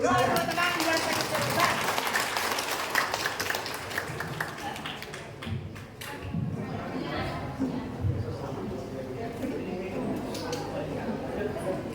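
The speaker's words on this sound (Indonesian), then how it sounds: "Tepuk tangan dulu." Students and audience at an elementary school quiz final in Kangean clap in a loud burst of rapid claps that thins into scattered taps, while voices talk over the later part.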